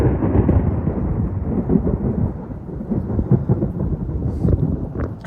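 Thunder from a lightning storm in Houston, Texas rumbles loud and continuous, a deep rolling roar with no voices.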